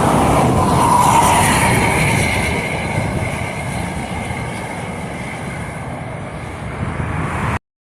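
Traffic on the Trans Java toll road, a vehicle rushing past with a loud broadband whoosh that peaks early and slowly recedes into steady road roar, no talking.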